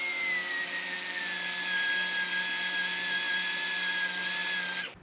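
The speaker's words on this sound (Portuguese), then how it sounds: "Você vê que a gente tá furando isso em etapas, não dá pra ir direto." A hand-held power drill bores through an 8mm metal bar with a steady, high, whining whir that holds for about five seconds, close and loud, then cuts off abruptly.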